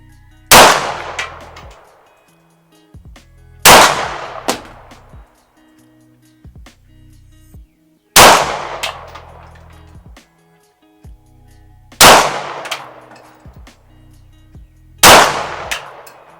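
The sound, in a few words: FN 509 pistol gunshots at targets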